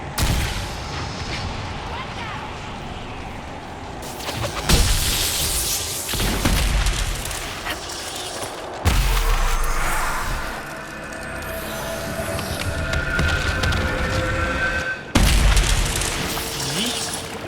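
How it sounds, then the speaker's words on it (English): Booming explosions and blasts from the video game Dragon Age Inquisition hit loudly several times over a continuous battle din, with sharp onsets around five, nine and fifteen seconds. "don't look at explosions"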